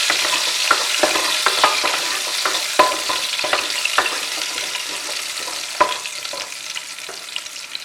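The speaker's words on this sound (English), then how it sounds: "and then again a stir fry." Meat and green chilies being stir fried for a meat Madras curry: a steady close sizzle carries through, broken by frequent sharp scrapes and clacks of a spatula against the pan, with no talking.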